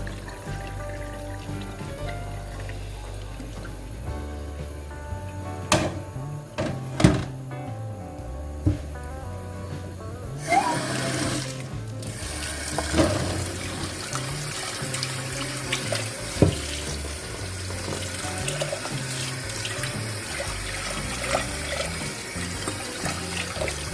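Kitchen tap running into a sink while rice is rinsed and filtered, a steady trickling stream with splashes and a few sharp knocks of handling, close by and fairly quiet, no talking.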